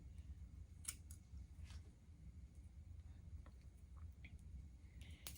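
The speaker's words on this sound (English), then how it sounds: "You just cut it at the base." Scissors snip crochet butterfly locs at the base, a few faint, quick clicks and snips scattered over a low background rumble.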